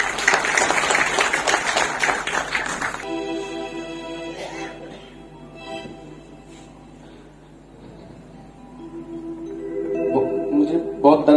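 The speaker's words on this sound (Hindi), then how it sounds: "एक बार गुंजन महक के लिए ताली बजा दीजिए जोर से" An audience claps loudly for the singer Gunjan Mahak at the start, then the applause falls away beneath sustained music tones, with a voice briefly over it and clapping picking up again near the end.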